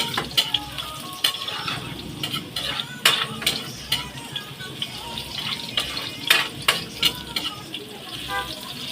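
Garlic and onion sauté in a pan with a continuous sizzle, broken by frequent scraping and clinking strokes of a utensil, while a voice speaks intermittently nearby.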